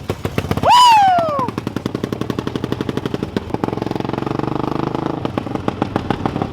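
Quad ATV engine idling loudly with rapid, sharp popping bursts like constant gunshots, preceded by a brief rising whine, close and continuous, no talking.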